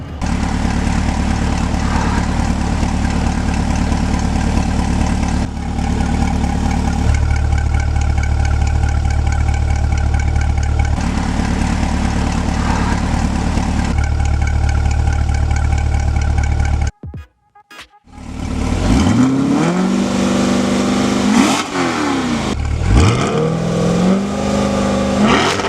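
A Chevrolet C8 Corvette's exhaust set to stealth mode rumbles loud and steady at idle for a long stretch, then cuts out briefly before several rising and falling revs swell close by, with no talking.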